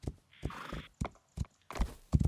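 A horse in the Rising World video game gives a short whinny between brief, spaced hoof clip-clops and thuds, moderately loud and with no talk over it.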